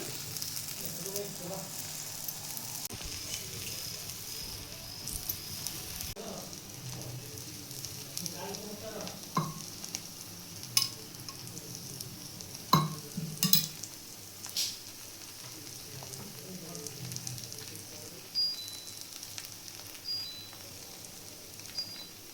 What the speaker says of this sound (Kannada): ಇವಾಗ ಮಾಡಿಟ್ಟಂಥ ಪರಾಟನ ಇವಾಗ ಸ್ವಲ್ಪ ಮೇಲ್ಗಡೆ ಎಣ್ಣೆನ ಹಾಕ್ಕೊಳ್ಳೋಣ